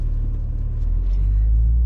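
Toyota GR Supra A90 sports car engine with a deep, steady low rumble that swells slightly toward the end, heard up close with no distinct pops standing out.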